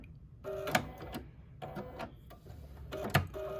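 A sewing machine runs a straight quarter-inch seam on a 1930s-style sampler quilt block in short, close bursts of whirring mechanical chatter separated by brief pauses.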